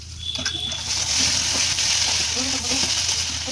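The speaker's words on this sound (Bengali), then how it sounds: "ঢাকনাটা খুলে ভালো করে নেড়ে নিতে হবে।" Banana stem fries in an uncovered pan while it is stirred, a steady, loud, close sizzle running throughout with occasional soft scraping strokes.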